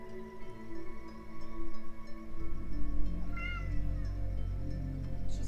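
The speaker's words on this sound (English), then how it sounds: "I have a cat in my arms and I am trying to comfort it" A distressed cat meows while held in someone's arms, its drawn-out, wavering cries close and fairly quiet over a low rumbling background.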